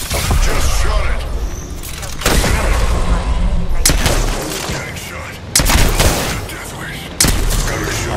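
Gunfire and booming weapon shots in the battle royale video game Apex Legends, with loud bursts of shots repeating through a hectic fight while a player talks over the action.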